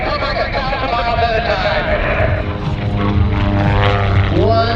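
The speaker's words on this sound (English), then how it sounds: "What a beautiful topside pass by Kyle Fowler" A Long-EZ two-seat propeller plane makes a topside pass at the Abbotsford International Airshow, its engine droning loudly and steadily as the pitch shifts, while an announcer talks over a public-address system.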